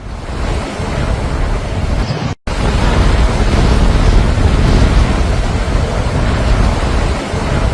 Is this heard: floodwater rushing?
yes